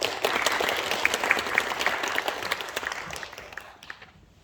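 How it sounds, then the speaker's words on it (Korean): An audience at a Korean apartment redevelopment briefing claps to welcome a speaker, a fairly close burst of applause that gradually thins and fades out at the end. "박수로 환영해 주십시오"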